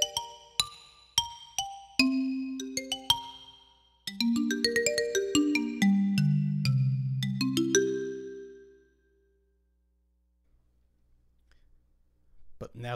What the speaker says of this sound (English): Let's start with brushes. This has such a cool, snappy, percussive sound to it.